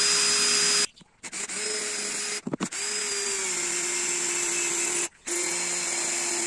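A power drill whines steadily in three long bursts drilling wood, stopping briefly between them, close and loud.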